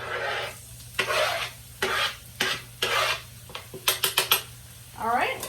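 Mushrooms sizzle in hot oil in a skillet while a spatula stirs them, giving bursts of scraping and clatter against the pan with a steady frying hiss beneath; a brief spoken word comes near the start.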